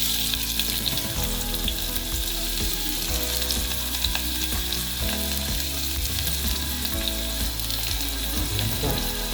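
Onions frying with garlic in a pan for an Italian pasta dish, giving a steady close sizzle that runs unbroken throughout with faint background clinks and no talk.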